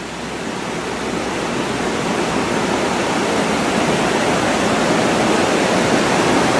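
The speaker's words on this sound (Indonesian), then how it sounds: "air tuh udah gemericik" A forest stream near an old estate in Malang, its water rushing in a steady, loud, close wash of noise with no pauses.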